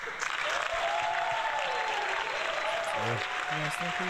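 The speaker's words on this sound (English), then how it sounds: "So we just want to just give him his round of applause" Applause on a podcast sounds as a steady, continuous clapping bed with voices talking over it near the end.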